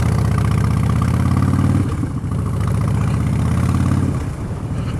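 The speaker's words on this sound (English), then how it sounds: "So yeah, I'm riding my bike to work." A Harley-Davidson Street Bob motorcycle engine on a ride to work along quiet roads, giving a loud, close, steady low throbbing rumble that briefly shifts in tone partway through, with no talking.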